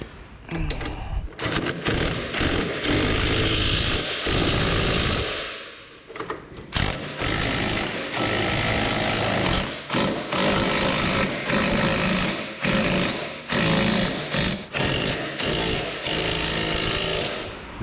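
Power tool fastening bolts on a fertilizer spreader during assembly, a loud buzzing, rattling burst repeated in quick pulses with short pauses, close up and dominating the recording.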